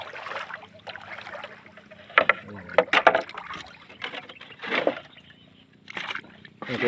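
A small motorized fishing boat whose hull is a split drum runs its engine at sea, a steady low drone throughout, with voices talking over it and occasional splashes and knocks.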